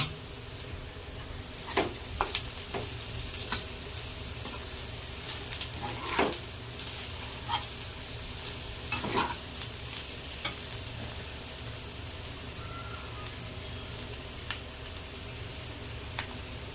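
A pan sizzles steadily while a spatula scrapes and stirs bitter gourd with salt and turmeric, with occasional sharper clinks against the metal.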